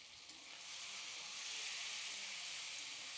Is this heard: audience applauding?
no